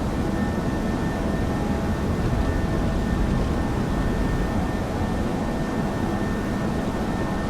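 An Airbus A320 jet climbing out after takeoff on runway heading 270, with a steady, loud broadband engine roar that holds constant throughout and no voices.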